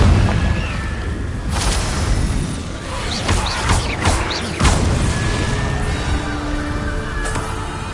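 Confringo fire spells burst in Hogwarts Legacy gameplay, several sharp booming blasts in quick succession over a loud, rumbling combat background.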